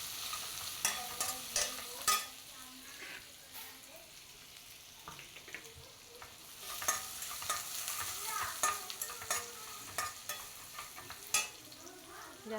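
Ginger, garlic and grated vegetables are stirred in a pan for Chinese noodles, with repeated scraping strokes over a light, steady sizzle. The stirring comes in uneven bursts of soft scrapes and knocks.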